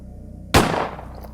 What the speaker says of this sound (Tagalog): may umalingaw-ngaw na isang pagputok ng baril